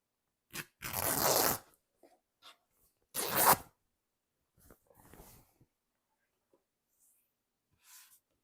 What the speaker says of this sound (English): I'm just going to cut some and then rip it.